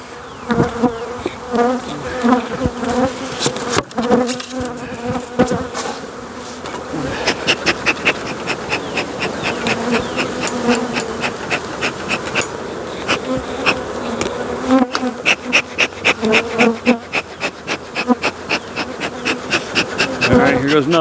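Honeybee colony buzzing loudly and continuously around a hive after the queen was dropped in the grass, a dense close drone with many bees flying past, no talking.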